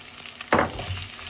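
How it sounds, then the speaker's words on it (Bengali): Onion, green chili and garlic hit a hot frying pan with a sudden loud sizzle that keeps crackling steadily, close and alone without talk. "তো আমি এক মিনিট নাড়াচাড়া করবো কারণ যত নাড়াচাড়া করবো যত ভাজবো তত ধরেন সেন্টটা বেরোবে"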